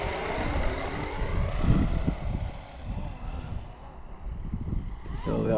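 A Flywing FW450 Airwolf RC helicopter flying outdoors, a continuous whirring rotor and motor drone with wavering pitch and wind buffeting on the microphone, moderately near.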